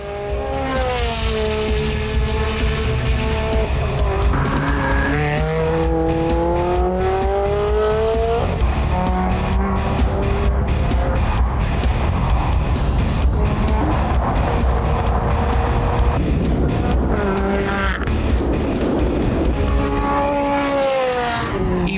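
Ferrari Challenge Stradale race car driving hard at speed, its engine note loud and constant throughout, pitch climbing and falling through gear changes, with music-like tonal bands running over it.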